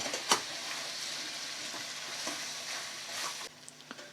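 Chicken sukka masala is stirred in a frying pan, a soft steady sizzle with scattered spoon scrapes and light taps, one sharper clink early on, fairly quiet and close.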